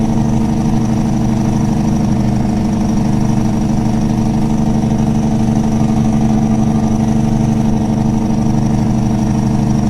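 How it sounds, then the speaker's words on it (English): A Kenworth T660 truck's engine brake in American Truck Simulator gives a loud, continuous, deep rumbling drone with a throbbing low growl that holds steady throughout, with no voices. "crank up the engine brake, get that retarder in there"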